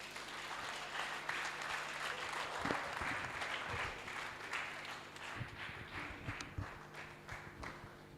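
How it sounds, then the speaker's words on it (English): Applause from an audience at a children's book launch, honouring a veteran broadcaster. Steady, moderately loud clapping runs throughout with a few louder individual claps near the middle. "can we give a warm applause to our veteran broadcaster"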